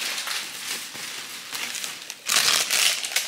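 Plastic garbage bags are handled in a supermarket setting, giving bursts of loud close crinkling and rustling that swell toward the end.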